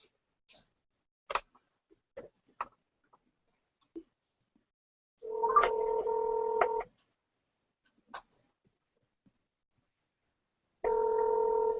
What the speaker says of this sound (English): I'll dial one more number here